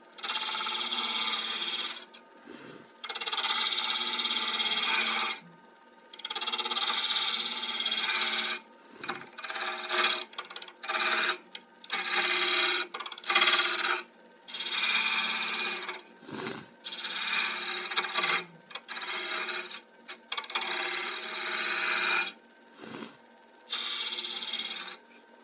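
Bowl gouge cutting wood on a lathe while turning a small fancy box, heard as loud rasping, scraping bursts of several seconds each with short pauses between, close and with no talk.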